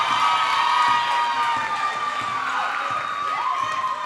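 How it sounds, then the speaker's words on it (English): Crowd in a gym at a girls high school basketball game roars and cheers after a made shot, a loud sustained wash of voices with shrill shouts rising over it. "and the crowd goes wild."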